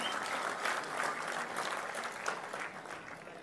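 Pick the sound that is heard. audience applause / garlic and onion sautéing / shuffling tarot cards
audience applause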